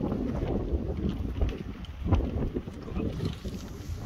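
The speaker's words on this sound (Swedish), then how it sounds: "Fan vad vind det vart!" Strong wind blows across a golf course, roaring and buffeting the microphone in a steady low rumble with gusty surges throughout.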